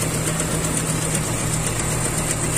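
A car engine idles rough and unsteady with a misfire, running continuously with a constant drone and close, even loudness.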